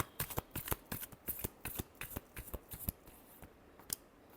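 Close, crisp riffles and snaps as tarot cards are shuffled in a fast irregular rhythm, quiet overall and with no voice.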